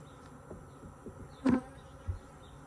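Bees buzz faintly around a hive, with a soft background hum and one brief closer pass swelling loudly before fading, followed by a low thump.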